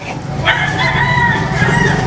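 A rooster crows at a distance at Divisoria market in Manila, a drawn-out call over steady background noise and low rumble, with faint clucking around it.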